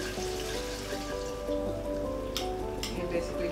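Root vegetable chips frying in hot oil for a provision medley, giving a steady, dense crackling sizzle that runs continuously at moderate loudness, with a few sharper pops near the end.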